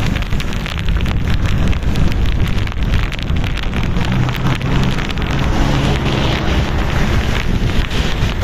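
Steady heavy rain from Typhoon Kristine pours onto road surfaces, a dense continuous hiss with low wind rumble and passing traffic, loud and unbroken throughout with no talk.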